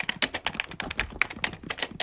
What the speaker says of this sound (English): I've got to get typing.